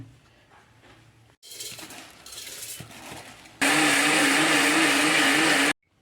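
A grinder runs on soaked raw rice to make batter for rice kondattam. A lower whir and clatter starts after a short quiet, then the motor surges into a loud, steady roar for about two seconds before stopping abruptly.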